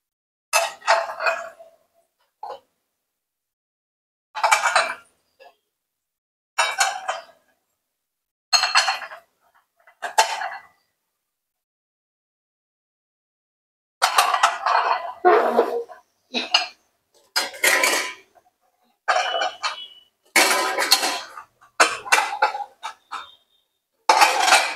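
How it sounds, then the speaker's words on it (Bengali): Dishes, pots and plates being washed by hand, with repeated close clatters and clinks of metal and crockery in separate bursts and quiet pauses between, growing busier toward the end. "থালা বাসন গুলো ধুয়ে নিলাম"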